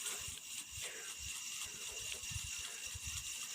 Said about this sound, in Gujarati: જો મિત્રો અવાજ આવતો હોય તમને ફુવારા ચાલુ જ છે